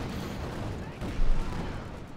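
Tank gun fire in the World War II strategy game Company of Heroes 2, an M36 Jackson tank destroyer shooting at a Panther, lands as one heavy boom in the middle of dense battle noise and commentary.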